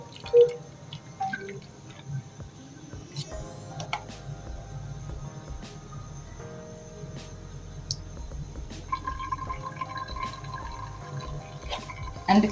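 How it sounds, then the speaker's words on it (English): Water is used to rinse excess salt out of food in a home kitchen: continuous trickling and dripping with small clinks throughout, fairly close, with no talking. "I want to rinse this out to get rid of this excess salt."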